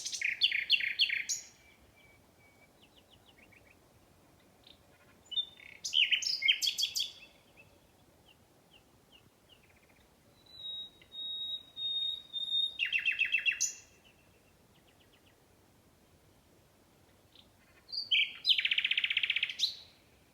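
Birds sing in bright, high trilling bursts separated by quiet pauses, several phrases repeating over a faint steady background.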